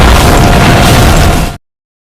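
A loud, roaring blast from a fight scene in the 1999 film A Man Called Hero, a dense crackling burst that fills the sound for about a second and a half, then cuts off abruptly into silence.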